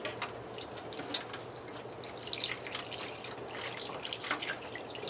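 A mixture of apple juice and barbecue sauce pours and drips steadily over chuck roast for several seconds, a continuous wet trickling with small splashes, close and moderately loud.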